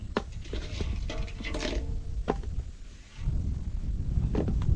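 Rain falls in a forest as a soft, steady patter with scattered sharper drips and a low background rush, faint and fairly distant.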